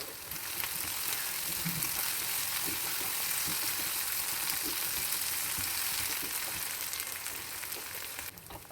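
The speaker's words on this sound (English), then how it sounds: "In a kadai, add some oil and add sliced onions. Fry them and add" Sliced onions and green chilies fry in oil in a kadai with a dense, continuous sizzle and crackle, close and steady throughout with no talking.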